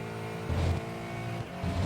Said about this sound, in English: Heavy braking into third gear.